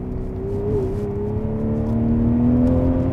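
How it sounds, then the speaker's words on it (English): A V12 car accelerates to 60 mph on cold, slippery roads on muddy tyres, its smooth engine whir rising steadily in pitch and growing louder, heard from inside with no one talking. "we'll accelerate to 60"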